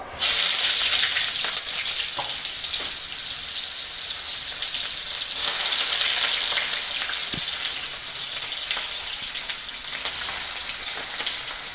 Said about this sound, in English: So right now the onions are getting fried.